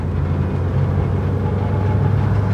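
Proton Saga FL engine revving steadily under load as the car pulls away, a loud continuous low drone that holds without a clear break.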